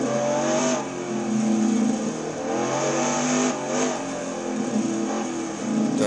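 In-car engine of a race car lapping Le Mans through the chicanes, loud and continuous, with its pitch dropping sharply in a couple of places as it shifts down through the gears.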